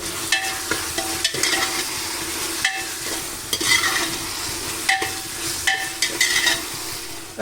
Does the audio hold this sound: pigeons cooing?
no